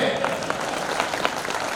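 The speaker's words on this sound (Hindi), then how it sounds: "ताली क्या कल बजाओगे" Audience applause at a Hindi poetry recitation, a steady wash of clapping from a crowd, fairly loud and continuous throughout.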